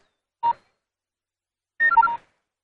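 Telephone keypad tones beep close and clear, a single tone followed after a pause by a quick run of four dialing beeps, with silence around them.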